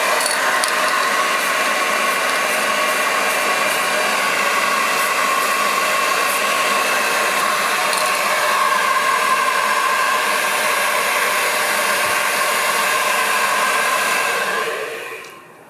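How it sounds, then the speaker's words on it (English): A hair dryer blows in a steady, loud broadband whoosh for about fifteen seconds while spray paint is applied to stencil art, then cuts off at the end. "Let's pull out my hairdryer and spray at the same time."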